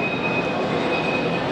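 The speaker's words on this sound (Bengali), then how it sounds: "পশ্চিমবঙ্গের একটা ব্যস্ততম রেলওয়ে স্টেশন এটা।" Trains at Sealdah station, a busy railway station in West Bengal: a continuous loud rumble of rolling rail wagons with a high steady squeal of wheels, heard alone.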